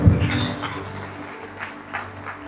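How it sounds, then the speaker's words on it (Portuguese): A church congregation applauds during a Portuguese-language sermon, a short burst of clapping that swells at the start and then thins into scattered claps and murmur. "Pode aplaudi-lo."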